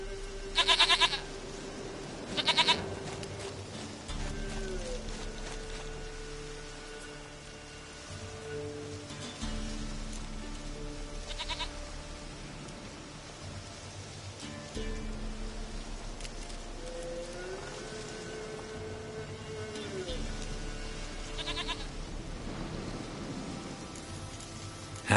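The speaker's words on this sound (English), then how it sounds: "Goat of mine, dearest, sweetest goat." Goats in The Witcher 3 give several loud bleats early on, then a long stretch of steady rain-like patter with soft musical tones and occasional fainter calls.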